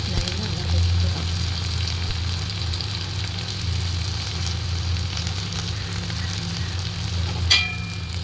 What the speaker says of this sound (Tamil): அதில் பூண்டு பச்சை மிளகாய் கருவேப்பிலை எல்லாத்தையுமே போட்டு நல்லா வதக்கிக்கலாம்.